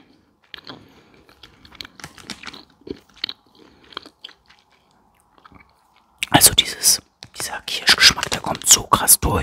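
Cherry-flavoured vegan fruit gummies are chewed close to the mic, soft and sparse at first, then loud, wet, rhythmic squishing and crunching, with whispering throughout.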